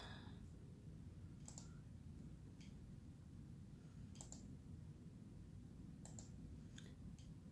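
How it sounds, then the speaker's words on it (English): Sparse, crisp computer mouse clicks, single and in quick pairs at irregular intervals, sit over a steady low background hum in a quiet room, with no talking. "I'm sitting here clicking around."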